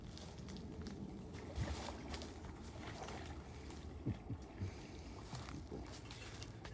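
A kayak moves along water past an abandoned animal enclosure area at Silver Springs, with soft paddle splashes and light knocks over steady wind and water hiss, fairly quiet and without talk.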